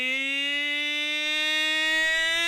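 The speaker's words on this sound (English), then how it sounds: "And that will be the siren too." A loud, steady electronic siren at a Papua New Guinea vs Fiji rugby league match sounds continuously and alone, holding one slowly rising tone for the whole stretch.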